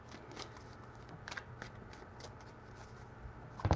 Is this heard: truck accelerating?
no